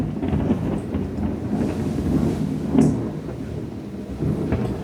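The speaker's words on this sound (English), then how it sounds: "I got interrupted by thunder." Thunder rumbles through a storm with low continuous rolling, a slightly louder swell near the middle, and rain and wind texture underneath, with no talking.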